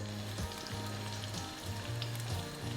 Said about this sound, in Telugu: ఒక్కసారి ఇలా వేయించుకుందాం నూనెలో.